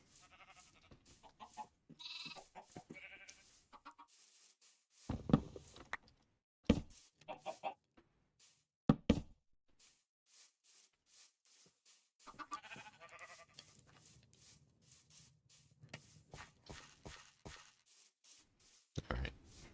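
Sheep in the Minecraft video game bleat in short, separate calls, several bursts scattered across a quiet farm scene with occasional clucking fowl mixed in.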